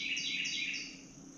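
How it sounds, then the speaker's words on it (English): A small bird sings inside a motorcycle workshop, giving a loud, close run of repeated high chirps that fades slightly toward the end. "Maybe the beautiful little bird just wants to serenade me with its beautiful song."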